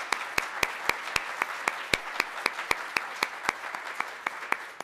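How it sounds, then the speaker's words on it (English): An audience applauds military families at a talk, a steady patter of many hands with a few sharp, prominent claps standing out in a regular rhythm, carrying on without a break. "Let's give them a round of applause for their service."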